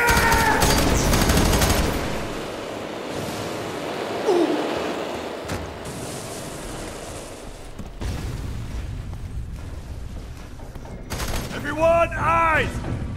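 Covering gunfire in the shooter FEAR 3 crackles in loud, dense bursts and volleys over several seconds, with shouting voices mixed in and a sharper cluster of shots near the end.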